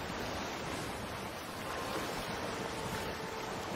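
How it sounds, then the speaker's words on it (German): A sailing ship rushing over ocean waves under full sails in the video game Sea of Thieves, a continuous loud rush of water and wind without breaks or talk. "Aber man saust schon richtig hier über die Wellen, wenn die Segel voll anschlagen"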